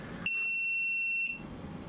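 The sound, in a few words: chronograph beeping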